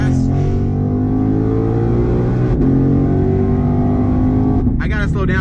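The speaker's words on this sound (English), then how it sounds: "hit the gas" A twin turbo 2020 Shelby GT500 accelerates hard from a 50 mph roll, its engine a loud, deep, rising roar heard from inside the car, ending with a brief shift-like break and a burst of higher noise.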